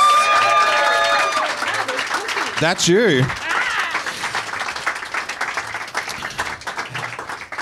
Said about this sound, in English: So if we can get a round of applause and welcome